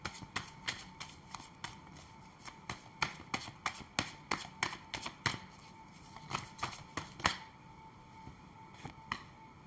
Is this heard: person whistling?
no